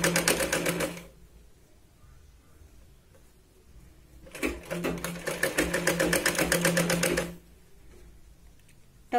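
A sewing machine stitches a tuck on a Katori blouse in two rapid runs, a short one at the start and a longer burst of about three seconds, with quiet handling between them.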